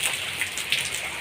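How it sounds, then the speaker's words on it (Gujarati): Rain in Amreli falls as a dense, even hiss of drops on surfaces, close and continuous with no voices. "મિત્રો અમરેલીમાં આવી ગયો છે વરસાદ."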